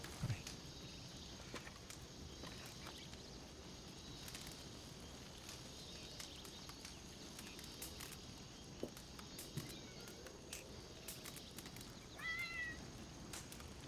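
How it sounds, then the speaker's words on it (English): A cat meows faintly a couple of times amid a quiet outdoor bed of insect and cricket chirps, with light footsteps and no talking. "Is that cat again?"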